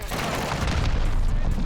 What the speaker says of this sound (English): You can shoot the pistol while holding the fucking assault rifle?